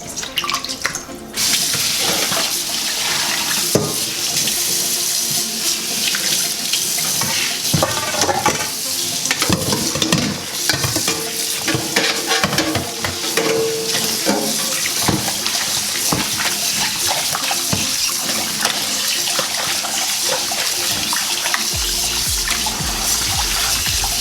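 Raw chicken being washed under a running kitchen tap, water splashing steadily into a sink with handling and rinsing noises, loud and close, continuous for the whole stretch with no talking.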